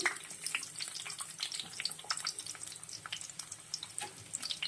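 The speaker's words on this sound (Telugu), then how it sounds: "అంటే ఆయిల్ కాగింది. ఇందులోనే మనం ఉల్లిపాయలు కూడా వేసుకుంటున్నాము." Onions hiss and crackle in hot oil in a pan for chicken curry, a soft, close, uneven sizzle with small pops and spatters throughout, no voices.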